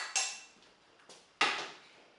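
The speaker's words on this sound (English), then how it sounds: "It has to be very tender because we are going to mash it." Cooked, very tender butternut squash is mashed in a pot by hand, giving sharp scraping and clattering strikes, three main hits spaced apart with a fainter one between, each trailing off, with no voices.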